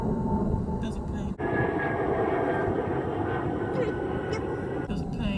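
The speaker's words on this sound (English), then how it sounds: "There's a plane." A propeller airplane drones overhead in an open outdoor area, a steady loud rumble that lasts throughout while a person talks over it.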